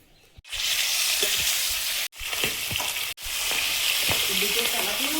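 Fish rubbed with salt and turmeric fries in a hot wok with a loud, close, continuous sizzle, broken by two brief gaps, with faint clinks of a spatula.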